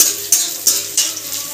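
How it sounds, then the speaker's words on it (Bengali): Chopped onion fries in a kadai with a loud, close sizzle, broken by three regular stirring scrapes of a spatula against the metal in quick succession. "কড়াইতে পেঁয়াজ দিয়ে দিয়েছি"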